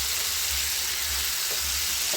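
Onions frying in a pan as tomatoes go in, a steady hissing sizzle with a faint stir, close and even, without talk.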